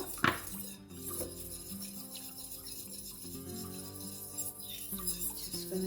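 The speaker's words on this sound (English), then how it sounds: "Gonna keep on stirring here for a little while, just to make sure that the scent incorporates well" A utensil stirs scented whipped candle wax in a container, giving soft repeated scraping and light clinks close up over several seconds, with faint tonal background music.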